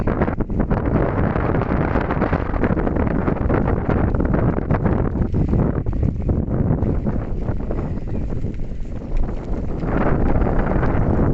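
Strong wind roars and buffets continuously, a loud, dense rush with gusty surges throughout and no voices.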